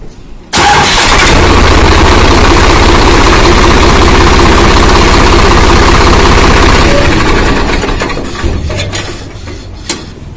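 A Swaraj 855 tractor with a self-starter problem cranks and fires into a loud, close diesel roar, holds a heavy rough idle, then settles lower with a few knocks and clunks near the end.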